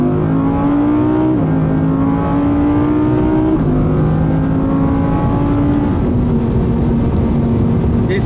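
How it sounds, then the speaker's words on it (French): An Audi R8 V10+ race car being driven hard on a track at night, its engine note loud and continuous, with pitch climbing and dropping between gear changes as it accelerates. "Et ça roule très très fort cette R8 V10+."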